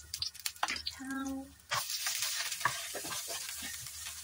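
Onion and vegetables being stir-fried for peppery fried rice vermicelli, a steady sizzle following a short tonal hum, with scraping stirs and a few faint bits of talk.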